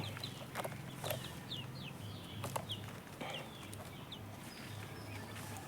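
Chickens and young chicks feed on termites, with soft, faint clucks and short high peeps scattered over a steady low background hum.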